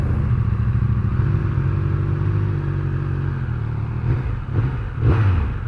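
A 2021 Triumph Speed Triple 1200 RS motorcycle engine runs with a loud, steady low rumble close by, swelling into a couple of brief revs near the end.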